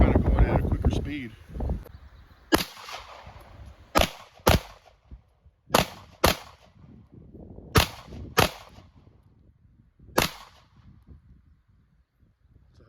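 Sig Sauer P210 Carry Custom pistol fired quickly outdoors, about eight sharp loud reports in irregular quick succession, with faint speech early on.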